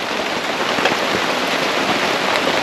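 Steady heavy rain pours on a deserted island at dusk, a dense, even hiss of drops hitting surfaces close by, unbroken throughout and with no voices.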